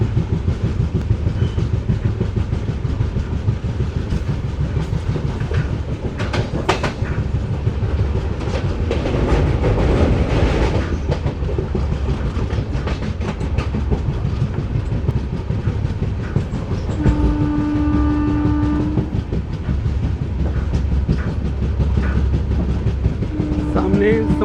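14505 Nangal Dam Express running on rails at speed, a loud continuous rumble with rhythmic wheel clatter throughout and a brief horn-like tone near the end.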